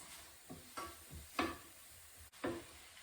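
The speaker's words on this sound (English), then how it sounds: "this has now been cooking with the red pepper and garlic for about 2 minutes" Red pepper and garlic frying in a pan, soft sizzling punctuated by a few spaced stirring scrapes and taps, fairly quiet and close.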